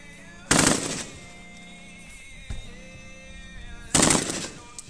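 Two loud bursts of M249 light machine gun fire at an outdoor range, each a rapid rattle lasting about half a second, with a brief quieter report between them.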